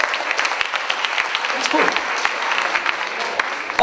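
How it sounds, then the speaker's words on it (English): An audience at a Providence swing dance event claps for eleven years of a free dance, a steady wash of applause under a speaking voice. "Round of applause for 11 years."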